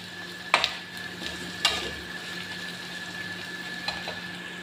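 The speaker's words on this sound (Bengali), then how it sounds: "এখানে পেঁয়াজ মশলা কষিয়ে নিচ্ছি" Onion and spices being sautéed for a goat meat curry, a soft steady sizzle in the pan broken by a few sharp clinks of a spatula against the pot.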